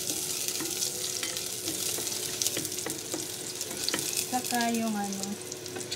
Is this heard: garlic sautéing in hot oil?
yes